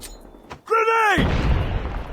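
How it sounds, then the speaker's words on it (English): A grenade blasts in Call of Duty Mobile, a sudden loud boom that rolls into a long rumbling tail, preceded by a short synthetic tone and a voice briefly calling out. "Grenade!"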